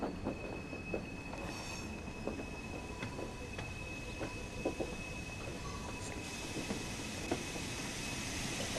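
A train passing on the West Somerset Railway, with a steady rolling rumble, rhythmic wheel clicks over rail joints and a faint high squeal, heard at moderate distance.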